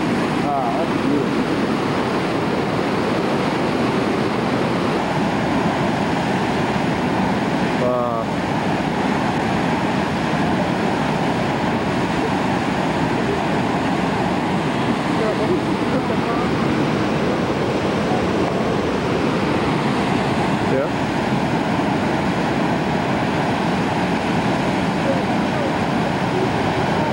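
Huka Falls in New Zealand, heard from the top of the waterfall as a loud, constant roar of rushing water that fills the whole stretch without a break.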